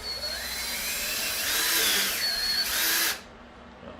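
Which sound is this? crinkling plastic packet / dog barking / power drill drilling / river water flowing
power drill drilling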